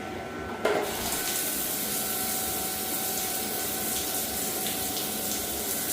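Hot water starts suddenly from a shower or tap and keeps running in a steady, close hiss with a faint tonal hum underneath.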